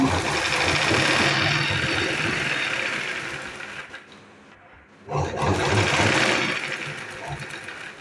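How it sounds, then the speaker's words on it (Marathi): Sewing machine stitching a strip of lace, a loud rapid mechanical whirr running in two bursts with a short pause between them. "तर पूर्ण शिलाई मी मारून घेते."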